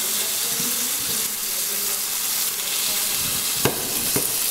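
Veal saltimbocca sizzles steadily as it browns in a pan, a constant close frying hiss with a couple of sharp clinks near the end.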